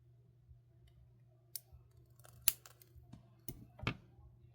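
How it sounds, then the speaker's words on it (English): Tiny needle-nose snips cutting wire, several sharp metallic clicks scattered over a quiet, faintly humming background, close and crisp, with a couple of louder snaps near the end. "And we're going to snip that off."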